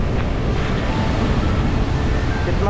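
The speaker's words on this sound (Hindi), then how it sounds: "कितनी ऊंची ऊंची इसमें लहरें आ रही हैं" High waves crash and surge continuously onto the shore at Dhanushkodi, a loud, dense roar of surf with wind buffeting the microphone.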